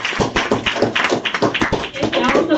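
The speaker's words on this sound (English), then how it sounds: "So let's give them a round of applause." Audience applause at the opening ceremony of a NITDA event, a dense burst of many hands clapping at close range, with some voices mixed in throughout.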